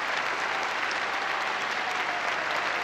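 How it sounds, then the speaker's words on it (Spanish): Dense, steady applause from a concert audience at the Teatro Municipal for pianist Claudio Arrau after a Beethoven and Brahms concerto performance, a broad continuous wash of many hands clapping with no voices. "agradece los aplausos del público"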